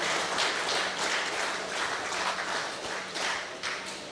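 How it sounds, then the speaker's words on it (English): Audience applause at an awards night honoring the All Stars club, a steady dense wash of many hands clapping at moderate distance, sustained evenly for several seconds with slight swells. "let's give a round of applause to that club, All Stars"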